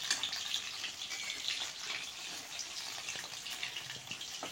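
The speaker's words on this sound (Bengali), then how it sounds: "আস্তে আস্তে ভাজছি তো" Chicken pakoras frying slowly in a pan, a soft, even hiss of bubbling oil, continuous and fairly quiet with no talk.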